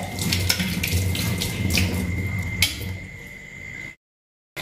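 Tap water runs steadily into a kitchen sink while dinner dishes are washed at home, a close, continuous rush with a few faint clinks, cutting off into brief silence near the end.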